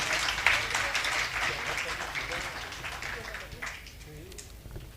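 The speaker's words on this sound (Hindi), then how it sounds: "एक बार सौरभ कांत जी के जोरदार तालियां बजाइए।" Applause from the audience at a Hindi poetry gathering (kavi sammelan) welcoming a poet, a fairly close burst of clapping that gradually fades over about five seconds, with some voices mixed in.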